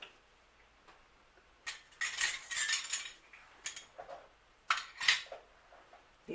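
A small magnet tool picks up and handles metal Ball canning lids, giving light, bright metallic clinks and rattles in short bursts against a quiet background.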